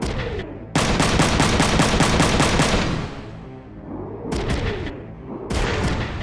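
Rapid bursts of wanzer mech machine-gun fire in the Front Mission 3 video game, loud sustained automatic volleys with booming impacts, then a lull and further short bursts near the end.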